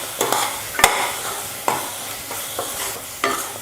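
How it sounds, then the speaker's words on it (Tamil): Masala of spice powders and salt sautéed in a pan for a meat or egg curry, loud sharp stirring scrapes every half second or so over a low continuous sizzle, close up. "மசாலாலாம் சேர்த்து நல்லா வதக்கிக்கிட்டேன்"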